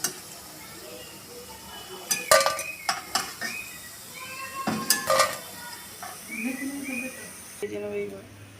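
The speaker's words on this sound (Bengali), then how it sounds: "প্রত্যেকটা আমি এপিট ওপিট করে লো ফ্লেমে ভেজে নেব।" Puffed rice cutlets fry in a pan on a low flame, giving a soft sizzle under scattered clinks and scrapes of a utensil against the pan, with a person talking throughout.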